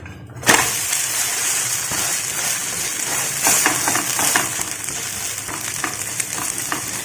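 Potato chakuli pitha batter fries on a hot griddle, giving a steady close sizzle that starts with a sharp hiss as it hits the surface and continues with small crackles and stirring sounds.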